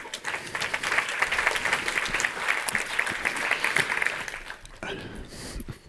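An audience at a Stanford Medicine Big Data talk applauds to welcome a speaker. The clapping is dense and steady for about five seconds, then thins and fades, with no voices over it.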